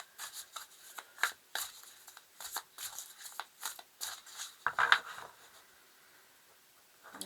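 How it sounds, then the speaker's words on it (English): Tarot cards shuffled by hand at close range, a rapid run of soft papery riffles, rubs and flicks that builds to a brisk burst near the end before trailing off into quiet. "I'm just going to shuffle the cards properly."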